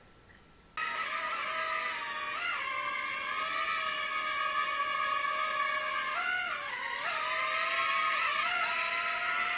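An XR-7 Nano Hexacopter drone spins up and hovers close by, a loud high-pitched buzzing whine whose pitch rises and dips as the throttle changes.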